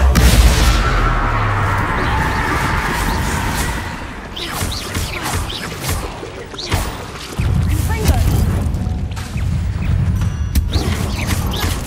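Confringo blasting-curse explosions in the video game Hogwarts Legacy, heavy booms and crashes layered over dense combat noise, with voices calling out the spell.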